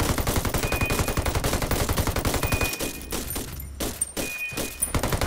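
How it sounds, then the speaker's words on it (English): Heavy automatic gunfire in Ghost Recon Wildlands rattles loudly in dense, rapid bursts for several seconds, then breaks into scattered shots and thuds with short gaps near the end. "Under heavy fire."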